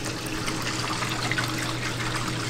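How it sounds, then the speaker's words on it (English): Water trickling and dripping through a leaking ceiling inside a newly built house, a faint steady splashing patter with no talk. "you will see it dripping here."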